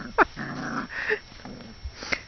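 Puppies playing together over the end of a big stick, with short growls, yips and a brief whimper close by in quick, scrappy bursts.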